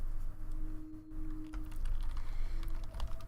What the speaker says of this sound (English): We're just gonna keep typing.